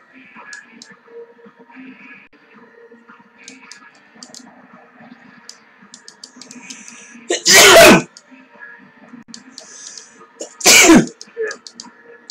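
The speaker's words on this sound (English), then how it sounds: "You're sneezing" A person sneezes twice loudly and close to the mic, several seconds apart, over quiet background game sounds and faint murmuring.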